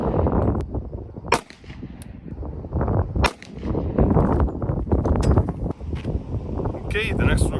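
A SIG 227 pistol chambered in .45 ACP fires several sharp, loud outdoor shots at irregular intervals, with wind noise and talking in between.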